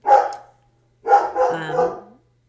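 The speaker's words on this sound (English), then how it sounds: "I have no idea what my dogs are barking out" Dogs give a short bark, then after a pause a longer run of barking and yelping, close and loud in a quiet room.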